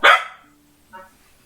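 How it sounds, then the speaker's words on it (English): Dogs bark indoors: one sharp, loud bark up close, then a softer second bark about a second later, with no talking over them. "the dogs are barking"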